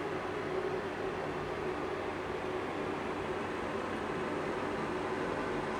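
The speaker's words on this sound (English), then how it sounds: "Fan on, giving a bit of air." A greenhouse fan running steadily, a constant broadband whoosh of moving air with a faint hum underneath, unchanging throughout and moderately quiet, with no voices.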